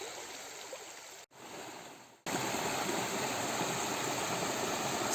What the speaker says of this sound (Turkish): Su sesi eşliğinde yürümeye devam ediyoruz.